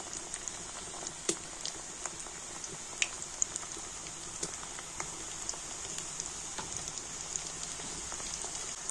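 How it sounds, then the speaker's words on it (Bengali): Ripe banana pitha fritters frying in hot oil give a steady, dense crackle with scattered sharper pops, close and unbroken, with no talking. "অল্প অল্প করে দিয়ে পিঠেগুলোকে আমি সুন্দর করে ভেজে নেব"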